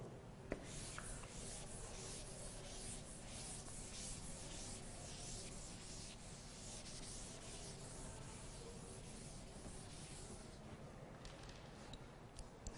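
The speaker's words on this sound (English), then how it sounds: "let me write one question on the board and solve this." Marker or chalk scratching across a classroom board for a physics lesson, a steady rubbing, scraping texture of continuous strokes lasting many seconds, close and fairly quiet with no talking.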